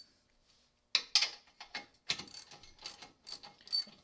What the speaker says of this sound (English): you're going to want to tighten these bolts all the way down